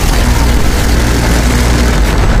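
A helicopter in the Call of Duty Cold War video game roars with a dense, continuous low rotor and engine rumble, loud and close, with no other sounds.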